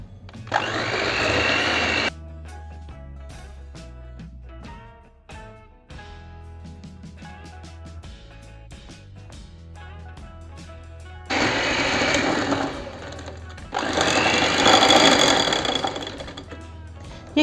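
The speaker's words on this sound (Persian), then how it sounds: "حالا من اندازه 1 دقیقه این دوتا رو با هم دیگه میزنم" Electric mixer beating sugar with softened butter in a bowl for a cookie dough: loud, buzzing motor bursts at the start and again near the end, with quiet background music playing in between.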